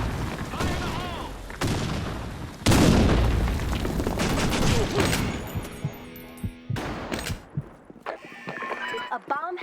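Grenade explosions in the shooter game Blackshot: heavy booming blasts and bursts of gunfire roll through a dense, chaotic battle mix, with voices calling out over the fighting.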